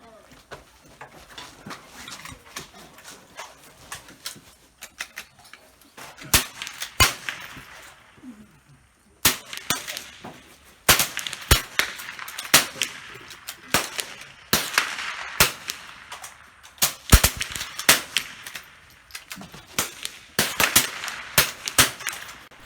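.22 military trainer rifles fire in a timed outdoor shoot, sharp cracking shots coming irregularly, sometimes in quick clusters, near and loud over a quiet background, with brief voices now and then.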